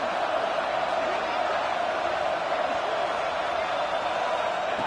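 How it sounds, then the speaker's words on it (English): Stadium crowd roaring at a football game in Oregon, a loud, dense, unbroken wall of voices that holds steady at full intensity from start to finish, with no distinct speech standing out above it. "listen to this crowd noise. This stadium is vibrating."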